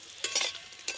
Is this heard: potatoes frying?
yes